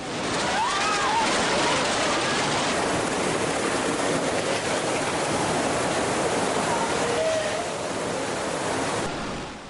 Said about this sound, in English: The black swirling water choked with rubble is unstoppable.